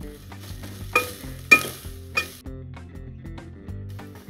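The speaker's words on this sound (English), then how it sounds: "Now I'm going to add the onions. And some spring onions." Onions and spring onions frying in a pan for vegetable pad thai, a steady soft sizzle with a few sharp stirring scrapes and bursts of hissing, set against background music.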